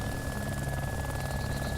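Helicopter lifting off in the military video game ArmA 2, a loud, steady rotor and turbine roar that fills the whole moment without pause.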